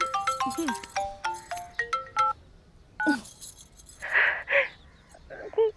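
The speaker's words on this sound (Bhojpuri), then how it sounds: "अरे जल्दी जल्दी देखा, मामी जी के नंबर से फोन होता" An incoming call on a mobile phone rings with a melodic ringtone, a run of bright repeated tones for about two seconds, then short bursts and a gasp-like sound follow, fairly close in an indoor home setting.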